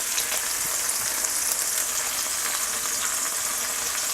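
Black pepper sizzling in hot oil in a pan at the start of making fried rice, a steady dense crackling fry that holds evenly throughout without talk.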